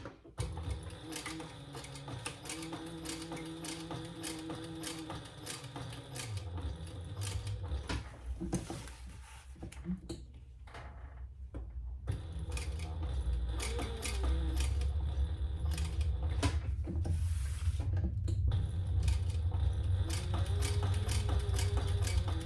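A sewing machine stitches a box seam on a crossbody sling bag, a low mechanical whir that runs in bursts with pauses and clicks in between, close up, with no talking.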